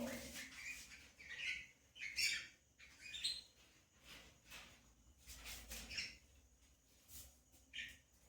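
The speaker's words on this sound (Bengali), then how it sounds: "ওইটা হলো একটা পাখি" Small colourful pet birds kept at home chirp and tweet in short, quick bursts, several calls overlapping at moderate distance over a quiet background.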